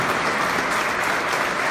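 A rally crowd in a Minnesota state capitol rotunda applauds loudly and steadily, a dense, continuous wash of clapping that echoes off the stone interior with no voices on top.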